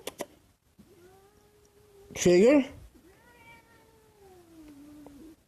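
A cat lets out a long, drawn-out meow and a louder whining yowl, close by, with a person speaking briefly in between.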